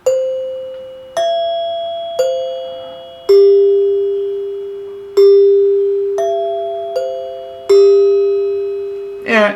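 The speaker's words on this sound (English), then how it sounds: "it's a 3-note dinner chime from the late 1930s" NuTone three-note dinner chime from the late 1930s, struck by hand in an attempted faux Westminster tune: a sequence of about nine clear, ringing metallic tones, each decaying slowly, at an uneven pace, ending in a brief rattle.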